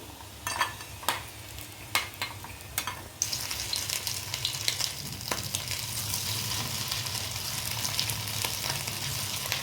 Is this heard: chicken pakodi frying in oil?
yes